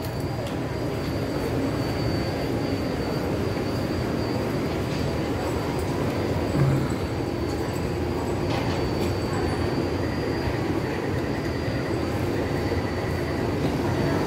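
A Taipei Metro high-capacity steel-wheel, steel-rail train on the Tamsui-Xinyi line at Jiantan station gives a loud, continuous rumble and rail roar, heard up close and steady throughout.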